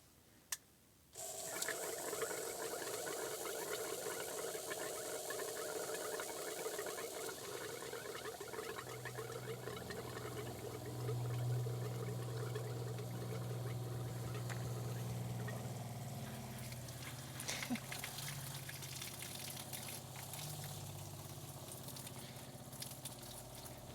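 Steady mechanical hum of a running pump with a continuous rush of flowing water, loud and close, a low drone rising partway through, in an off-grid IBC tote water system for a shed tiny house.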